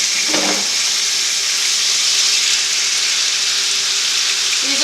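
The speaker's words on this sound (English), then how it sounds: "go ahead and put them in a deep pan." Seasoned sliced chicken sizzles in a deep pan, a steady, loud hiss of frying that runs without pause, with a brief clatter near the start as the pieces go in.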